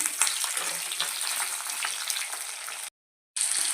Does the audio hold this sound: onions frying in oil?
yes